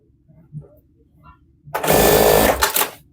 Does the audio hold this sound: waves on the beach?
no